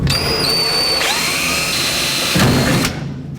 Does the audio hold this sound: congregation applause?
no